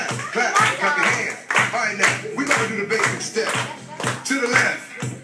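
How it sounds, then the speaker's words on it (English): At an East River High School FFA gathering, a group claps hands in steady rhythm to a song, the repeated claps falling on the beat under the song's music and vocals. "clap your hands."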